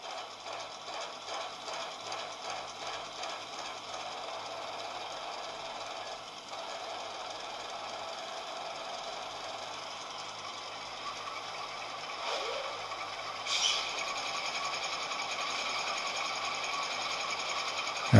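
An HO scale BNSF ES44DC GEVO model locomotive runs its sound-equipped startup sequence, producing a steady mechanical diesel-engine drone with a faint rhythmic knock that shifts slightly near the end, with no talking.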